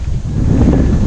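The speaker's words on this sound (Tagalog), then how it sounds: "Oh, sarap ng hangin." Wind at a campsite in Tanay, Rizal rushes and rumbles loudly across a microphone, a constant low buffeting roar over about a second with no speech.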